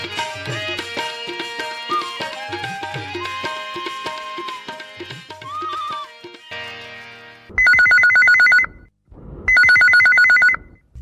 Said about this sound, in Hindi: हेलो, फोन करो छत्तीसगढ़ी गीत सुनो।